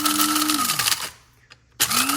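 Electric coffee grinder buzzing loudly through coffee beans for espresso, steady whine that winds down to a stop, a short pause, then a second burst starting up again.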